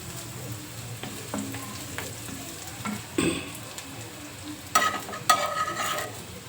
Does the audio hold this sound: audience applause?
no